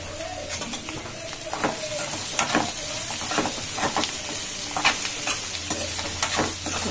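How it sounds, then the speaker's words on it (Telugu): Okra hits a hot pan for a tomato okra curry, sizzling loudly and steadily while a utensil stirs and scrapes in repeated strokes close up. "ఇప్పుడు బెండకాయలు వేసుకోవాలండి."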